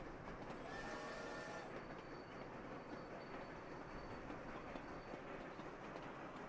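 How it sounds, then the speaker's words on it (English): A coal train runs in the train-building video game Sweet Transit, a faint, continuous rumble of rolling rail wagons with clickety-clack texture and a brief high squeal early on. "Here comes our coal train."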